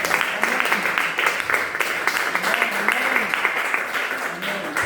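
A church congregation applauds and cheers during a service, with dense, steady clapping that fills the whole stretch while a preacher's voice carries over it.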